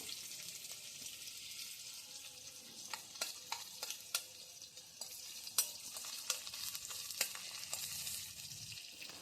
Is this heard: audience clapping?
no